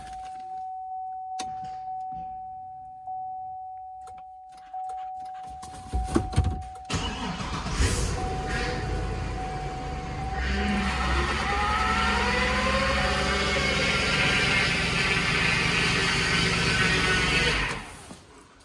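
A wrecked Cadillac Escalade is cranked and fires up. Quiet clicks and a steady electronic whine come first, then the starter catches, and the engine settles into a loud, continuous idle running close by until it cuts off near the end.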